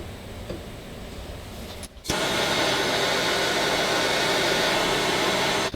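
A torch flame heats the spindle pulley on a classic lawn tractor mower deck: a steady roaring hiss that drops out for a moment, then returns louder and constant.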